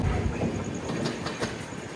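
Cocanada SF Express (12776) train running on the Lingampalli–Kakinada Town route, a steady close rumble of wheels and carriage noise with faint clickety-clack beats, continuous and fairly loud throughout without speech.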